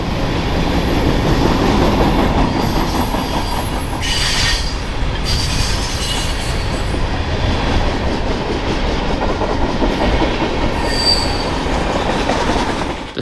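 A BNSF manifest freight train rolls across the Sioux Tower Diamond, where its track crosses CPKC rails in North Dakota. A loud, continuous roar of wheels and cars runs throughout, with repeated high, shrill wheel squeals.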